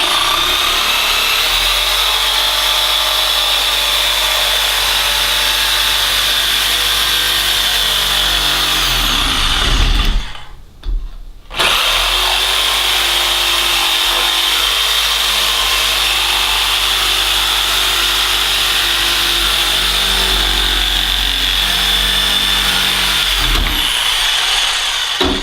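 A power saw cuts a rough opening in a wooden board for a goat disbudding box, a loud continuous buzzing whine that breaks off briefly midway before resuming to the end.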